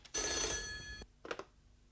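An old-fashioned telephone bell rings once inside a home, a bright metallic ring lasting about a second, followed by two short, quieter clicks or knocks, with no talking heard.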